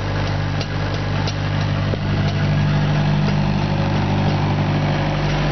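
A bus engine labouring steadily while towing a trailer loaded with a tractor, a loud, continuous low drone with a strong hum that holds unbroken throughout, with no talk.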